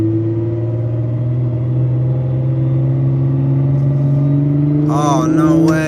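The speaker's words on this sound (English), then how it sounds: "I'm literally in traffic on like Main Street right now" Road traffic on a main street is heard from inside a car as a steady, loud engine drone and rumble. Chirpy, bird-like sounds rise over it near the end.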